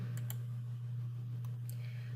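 Computer keyboard typing during hospital patient admission data entry, a few quick separate key clicks over a steady low electrical hum, close and fairly quiet.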